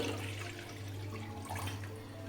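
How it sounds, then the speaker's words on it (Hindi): About a glass of water is poured into a kadhai sitting over a lit gas flame, making a continuous soft splashing pour against steady low background hum, with no talking. "अब जाएगा हमारा इसमें करीब 1 गिलास पानी"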